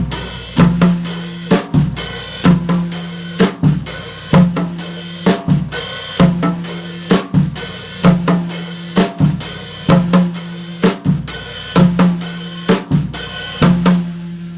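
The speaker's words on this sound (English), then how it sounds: "take our hi-hat pattern that's replicating the Guiro, and we're going to go ahead and add a snare drum, rack tom, and bass drum part" A drum kit plays a steady groove: a scraping guiro-style hi-hat pattern with snare, rack tom and bass drum, loud and close with regular repeating hits throughout.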